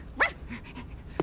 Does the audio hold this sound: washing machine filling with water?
no